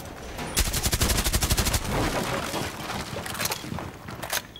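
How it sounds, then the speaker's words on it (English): Automatic gunfire in the tactical shooter Rainbow Six Siege, with a rapid burst of evenly spaced shots, then a rougher spell of mixed fire, and a few sharp isolated shots near the end, loud and without voices. "they're shooting from the B window into A"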